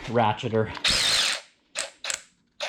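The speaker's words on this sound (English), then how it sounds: "I also picked up Black Friday special, the DeWalt ratcheter" A DeWalt cordless ratchet whirs in short bursts: one longer buzzing run followed by three brief pulses, close and loud, with a small hum of noise before it starts.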